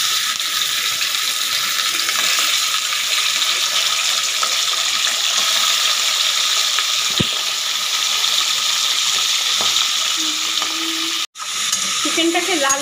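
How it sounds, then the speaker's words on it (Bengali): Chicken pieces frying in a pan with dried red chillies and black pepper, a loud, continuous sizzle close up, with a few clinks from stirring and a brief utensil clatter near the end. "চিকেনটাকে লাল লাল করে ভেজে নেবো এটাকে"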